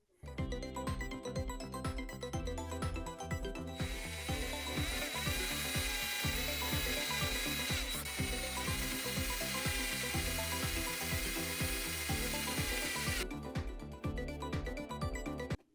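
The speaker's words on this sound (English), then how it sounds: "I use the template to punch holes in the lids as well." Holes are punched in acrylic lids using a template, giving a steady run of rapid mechanical ratcheting and rubbing clicks. A brighter sustained grinding layer runs through the middle section, and no one speaks.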